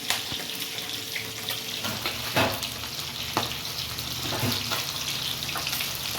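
Fish head pieces fry crisp in oil in a wok during Bengali village-style home cooking; a loud, steady sizzle fills the clip, broken by a few sharp scraping stirs of a spatula.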